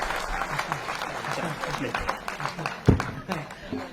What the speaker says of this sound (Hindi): एक बार पूरा सदन जोरदार ताली बजाकर बताइए